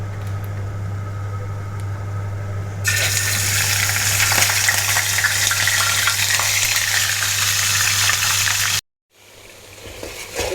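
Marinated chicken roast pieces hit a hot pan and burst into a loud, dense, steady sizzle that holds for several seconds over a low hum, then cuts off abruptly and resumes faintly.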